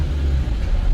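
A noisy Audi car rumbles past close by, a loud low-pitched roar filling the short moment without speech.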